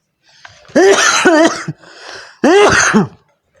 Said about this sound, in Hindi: ये एक खांसी ज़्यादा हो चुका है